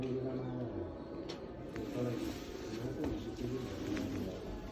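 Pigeons coo softly in repeated low, throaty phrases, with someone talking over them throughout.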